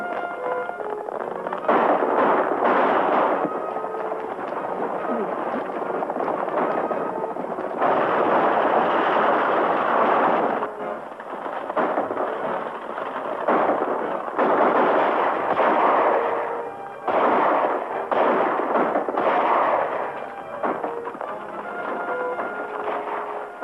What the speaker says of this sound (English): Whoever's doing that shooting is helping us.